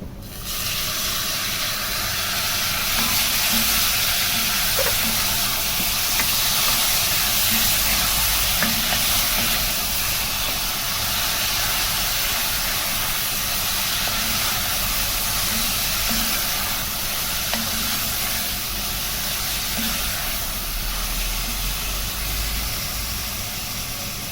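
Chopped tomatoes added to cabbage in a hot pan give a steady, loud, close sizzle and hiss that holds evenly throughout, with no voices.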